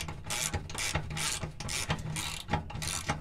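Hand ratchet snugging bolts back down during an oil change on a 2013 Ford Raptor with the 6.2L engine, close and moderately loud rapid clicking in short repeated strokes, about seven pulls in three seconds.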